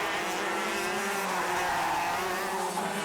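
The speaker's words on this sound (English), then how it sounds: "Beautiful little engines, very, very quick on these 6-speed shifter karts." Several 125cc six-speed shifter kart engines, Pavesi, TM and Honda RS125 two-strokes, scream continuously at a sprint championship race, a dense high buzzing whine holding steady throughout.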